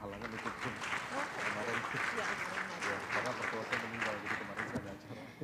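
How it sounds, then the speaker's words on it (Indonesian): An audience at a digital competitiveness index launch event claps for panelists, sustained dense applause filling the room for several seconds, with a voice over a microphone underneath. "Kita beri tepuk tangan yang meriah"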